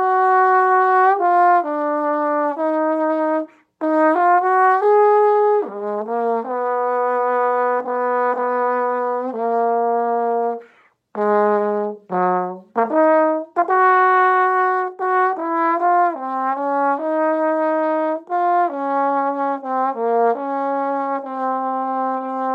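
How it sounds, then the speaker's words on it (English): Solo trombone playing the opening of Guilmant's Morceau Symphonique, sustained lyrical phrases with clear tones and a few brief breaths between lines, loud and close with no talking. "The trombone comes in after a couple of measures."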